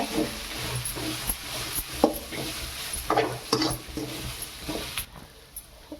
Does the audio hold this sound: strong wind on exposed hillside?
no